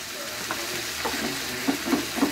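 Curry mixed with water is stirred in a hot pan, giving a soft sizzle broken by a few rhythmic scraping strokes of the spoon.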